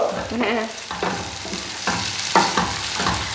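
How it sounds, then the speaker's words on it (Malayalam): Paneer sizzling in butter in a pan, a steady hissing fry broken by repeated stirring scrapes at an uneven rhythm, close and moderately loud. "അത് ബട്ടറിലല്ലേ വറുക്കുന്നേ"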